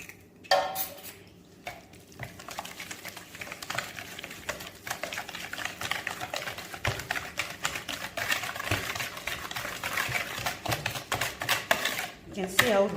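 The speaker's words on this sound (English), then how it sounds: "Using our whisk, we add the second egg." A whisk beats an egg into rich chocolate brownie batter in a bowl, making fast, continuous tapping and scraping against the sides, fairly close and steady with a few louder knocks.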